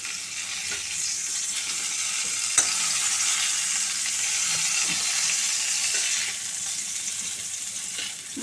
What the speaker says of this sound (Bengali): পটলগুলো আমি হলুদ ছাড়া শুধু নুন দিয়েই ভাজছি